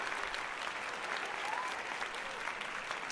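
An audience gives a round of applause during a live show. The crowd claps steadily and evenly for the whole stretch, heard from a moderate distance and not especially loud.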